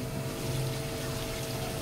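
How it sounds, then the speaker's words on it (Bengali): Water pouring steadily into a pot of chicken curry for kabsa, a continuous dense rush and gurgle heard close with no break and no talk. "আমরা এখানে মোটামুটি এখন পানি দিয়ে দেবো"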